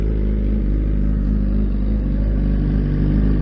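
A BMW S1000RR motorcycle with Akrapovic headers and a stock exhaust has just started up. Its engine runs loud and close with a dense, steady idle rumble for a few seconds.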